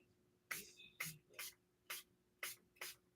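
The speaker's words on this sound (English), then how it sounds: "is just give it a spray." Stampin' Mist alcohol spray misted onto a handmade card in about six quick, soft spritzes at a steady pace, each a short hiss over a faint steady hum, with no voice.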